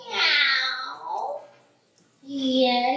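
A stage performer at a children's St. Nicholas show imitates a cat with two drawn-out meows separated by a short pause, loud and close.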